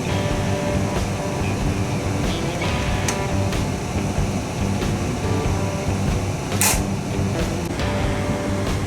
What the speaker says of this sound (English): We're back using this Harbor Freight rivet gun again.